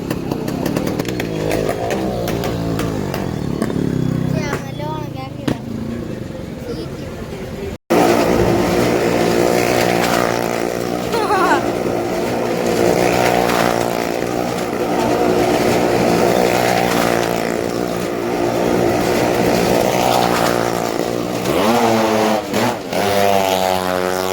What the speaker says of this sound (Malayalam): ഫസ്റ്റ് ബൈക്കാണ് വന്നത്. കാർ ഓടിക്കുന്ന രണ്ടുപേരും എത്തിക്കഴിഞ്ഞു.